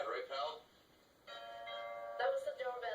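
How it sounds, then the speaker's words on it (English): Doorbell ringing indoors in a home, a few soft chime tones separated by short pauses, faint and close, with no other sound around them. "That was the doorbell, Dad."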